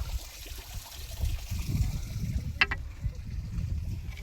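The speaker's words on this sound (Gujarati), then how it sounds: "દેખો હવે પાણી પીએ, ભેંસો પાણી પીવા છે" Buffaloes drinking from a dug pit of water make soft lapping and sloshing sounds, with a brief sharper splash midway and faint voices in the background.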